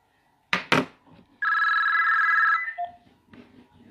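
An indoor telephone bell rings in one sustained electronic trill after two sharp knocks, clear and fairly loud, then cuts off before a faint voice answers.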